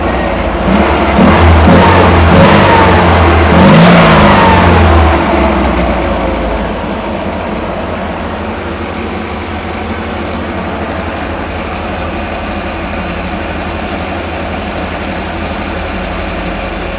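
A Steyr Puch Pinzgauer 6x6 military utility vehicle's four-cylinder engine revs loudly up close for a few seconds, then drops back to a steady, rumbling idle that continues alone.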